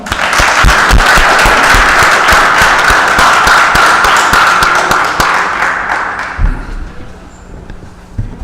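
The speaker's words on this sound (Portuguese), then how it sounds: "solicito a todos que saudemos o pavilhão nacional com uma salva de" Sustained applause from an assembly at a city council session in Poços de Caldas, Brazil, saluting the national flag: dense steady clapping for about six seconds, then thinning into scattered claps and a few thumps.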